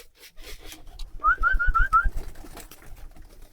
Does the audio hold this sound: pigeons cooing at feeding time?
yes